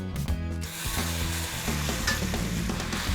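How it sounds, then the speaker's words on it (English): Pasta sizzles loudly in a hot pan with scraping stirring noises while making carbonara, a continuous close frying hiss without speech. "I'm just gonna pull out the pasta here and add it straight to the pan. Sizzle, sizzle."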